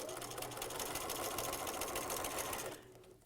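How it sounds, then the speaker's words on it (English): A sewing machine stitches half square triangles into a quilt crown top at a quarter-inch seam, running in a fast, even rattling whir for nearly three seconds before stopping abruptly. "we're sewing our half square triangles from that previous stage into the crown top. Again at a 1/4 inch seam."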